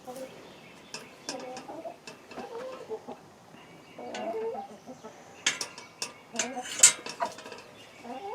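Chickens cluck in short, scattered bursts around a chicken roost, close by and moderately loud, mixed with occasional clinks and rattles like metal pans being handled.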